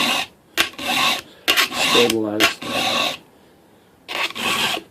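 A chainsaw chain being sharpened with a hand file, the chainsaw braced while each tooth is filed; several close, raspy file strokes come in bursts, with a short spoken phrase between them.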